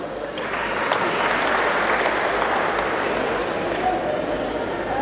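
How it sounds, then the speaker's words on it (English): Audience applause at a comedy show in Kigali, a dense, steady wash of many hands clapping at full loudness for the whole stretch. "Clap for that."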